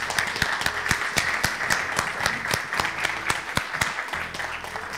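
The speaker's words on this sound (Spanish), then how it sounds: "también quería un aplauso para ustedes mismos también" Lively audience applause at the close of a ham-carving, wine-pairing workshop, with sharp individual claps standing out from steady clapping and no talk.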